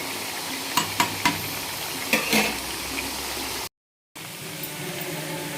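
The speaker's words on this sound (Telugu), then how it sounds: "ఇలా ఎర్రగా వేగుతుంది దీన్ని ఇంకా కావాలి గోల్డ్ కలర్లోకి కావాలి" Broiler chicken for pickle frying in a pan of oil, giving a loud, continuous sizzle with a few clicks of stirring early on and a short gap of silence.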